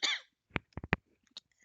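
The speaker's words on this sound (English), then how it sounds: "Sorry, I'm about to cough." A short burst of coughing: a few sharp, close coughs in quick succession, followed by a faint breathy sound, with no talking.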